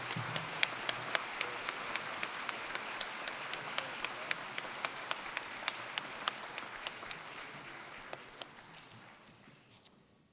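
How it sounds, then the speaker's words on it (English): Sharp, evenly spaced claps ring out over a soft, broad wash of crowd applause at a university graduation ceremony, gradually fading toward the end. "Round of applause."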